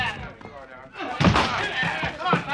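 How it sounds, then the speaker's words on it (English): A door is broken in during a radio drama, with a heavy slam and thudding impacts in a dense, busy mix. "we've got to break that door in"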